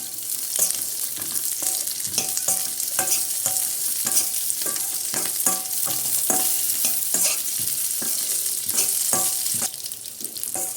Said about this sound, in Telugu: ఇప్పుడు కొన్ని కిస్మిస్లు కూడా వేసుకుని ఫ్రై చేసుకున్నాం.